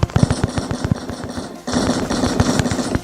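Bursts of KAC PDW fire in the shooter game Crisis Action: short controlled volleys of rapid shots, a brief pause, then a sustained loud stream of automatic fire with no talk over it.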